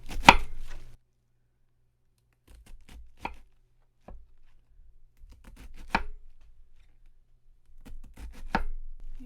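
A knife cuts through cabbage in thin slices for sauerkraut, giving a handful of separate sharp crunching chops against a board with quiet pauses between them, close and alone.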